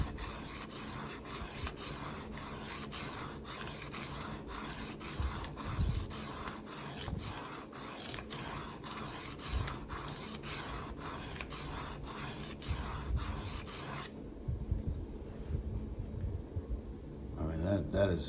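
Ka-Bar knife blade being sharpened on a 320 grit stone, a continuous rhythmic gritty rasping of repeated strokes, close and steady, stopping near the end.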